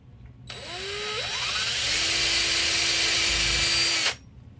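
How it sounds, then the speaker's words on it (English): A power drill with a 1/8 inch bit whines steadily for several seconds, its pitch rising as it spins up and bites into wood, then cuts off abruptly. "I will drill a little bit into the wood just as a starter"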